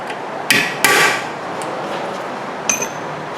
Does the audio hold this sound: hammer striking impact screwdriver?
yes